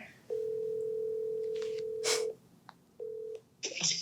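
A telephone call rings out on the line: one long steady ringback tone, a short burst of noise, then a second shorter tone and a brief electronic chirp. The sound is clear and close, with no talking.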